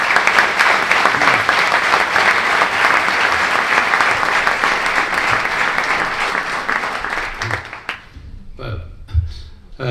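Sustained, loud applause from a lecture audience welcoming a speaker to an astronomy talk on the Milky Way in Almería, dense and steady for about eight seconds before thinning into a few scattered claps and a brief voice.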